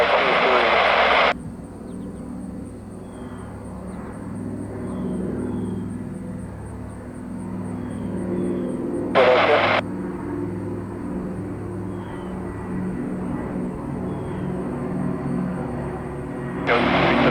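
A Douglas DC-3 airliner's radial engines drone with a steady, low, throbbing hum on an approach to Flint, Michigan, continuous throughout with bursts of radio chatter cutting in.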